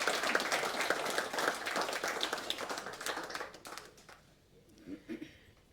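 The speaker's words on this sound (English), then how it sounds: "big round of applause for the Glenreagh General Store" Audience applause at a Glenreagh, Australia community event, a dense burst of clapping that swells and then tapers away, leaving a few faint sounds near the end.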